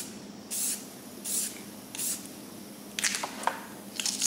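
A spray paint can laying down a line of paint, in several short bursts of hiss separated by pauses, the last ones choppier and mixed with faint taps.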